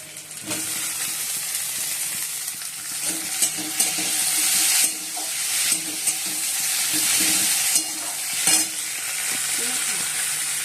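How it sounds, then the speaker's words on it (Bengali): Onion, grated coconut and tomatoes fry in a pan for ghugni, a loud, close sizzle broken by repeated scraping strokes of a spatula stirring the mixture. "আর এদিকে পেঁয়াজ ভেজে নিয়েছি, এর মধ্যে নারকেলও দিয়ে দিচ্ছি।"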